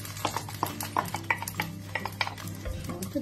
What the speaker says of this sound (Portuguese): vou colocar o alho já. Vamos colocar também as natas.